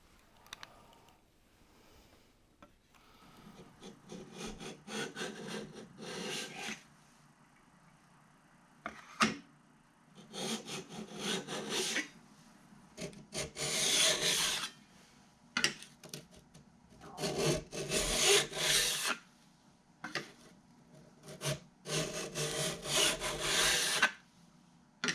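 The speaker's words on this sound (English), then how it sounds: "While I'm at it, I'll file the opposite edge as well." A file rasps along the edge of a woodworking card scraper in repeated bursts of scraping strokes, with quiet gaps between each group, close and moderately loud.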